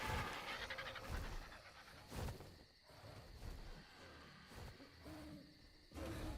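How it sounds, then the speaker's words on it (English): A terror bird calling in ARK: Survival Ascended, hooting, owl-like cries that rise and fall over several seconds in bursts, fairly faint against the game's background noise, no speech. "Sounds like a terror bird."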